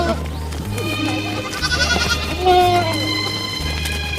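Goats grazing at a young people's goat farm in Unsan County, North Pyongan, bleating several times at close range over steady background music, with no speech.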